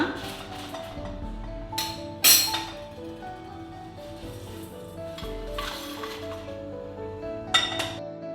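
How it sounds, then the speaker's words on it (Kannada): Fried chillies for a Kundapura-style country chicken curry are moved into another pot, with sharp metal clinks of the utensil against the vessel over a low background sizzle. "ಇದನ್ನು ಈಗ ನಾವು ಇನ್ನೊಂದು ಪಾತ್ರೆಗೆ ಶಿಫ್ಟ್ ಮಾಡ್ಕೊಳ್ಳೋಣ"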